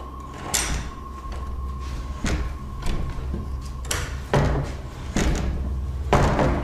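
A door pushed open in a dim building: several wooden thumps and knocks as it moves, fairly close, over a steady low hum and faint rumble, with no speech.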